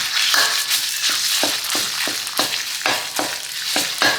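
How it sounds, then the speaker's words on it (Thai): Thai curry paste stir-fried over low heat for a chicken and green papaya curry, a steady sizzle broken by regular scraping strokes of a spatula against the pan, close and clear with no talking. "ใช้ไฟอ่อน ผัดเครื่องแกงให้หอม"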